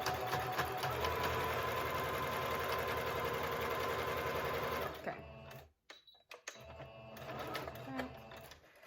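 A sewing machine stitches fabric with a steady, loud, rapid mechanical whir. It stops abruptly, then starts up again more softly.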